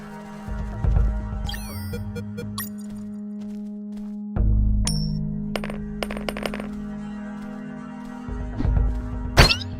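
Video game UnMetal: a coin dropped on the ground gives a few short, bright metallic clinks over steady game music and low ambience, with other small game effects around it.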